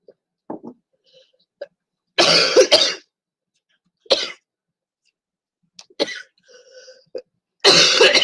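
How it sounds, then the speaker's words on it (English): Someone coughs and clears an irritated throat in several separate bursts, loud and close, with quiet pauses and a few small throat noises between the harsher coughs. "You know how you cough and it gets a bit irritating?"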